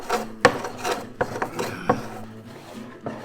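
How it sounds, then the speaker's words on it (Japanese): Hand plane shaving a large monkeypod wood slab: a run of sharp rasping strokes, close and fairly loud, repeating in an uneven rhythm with brief pauses between passes. "手ガンナで削っていきます。"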